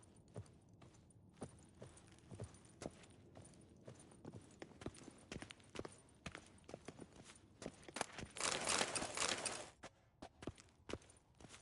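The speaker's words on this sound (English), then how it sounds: "Footsteps." Footsteps in The Witcher 3 on PS5, distinct hard-soled steps at an irregular walking pace that sound faintly clip-clopping, with a louder rushing swell of noise partway through.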